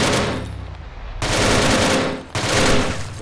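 Mark 48 machine gun fire in a military shooter game, sustained loud rapid automatic bursts in three long strings separated by short breaks, close and dense, with no talking.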